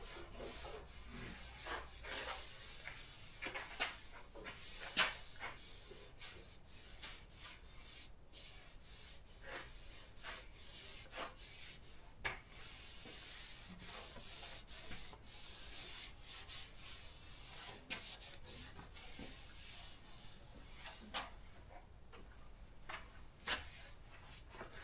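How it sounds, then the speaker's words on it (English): Steady hand sanding rubs back and forth across the body panel of a 1976 BMW 2002 being prepared for a repaint, close and continuous with a few sharper scrapes, no talking. "And guess what's next? Yeah, you got it. More sanding."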